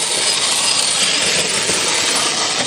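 A Redcat Gen8 Scout II RC crawler running at full throttle on a 2-cell LiPo gives a loud, continuous high-pitched motor whine with a hissing, noisy edge.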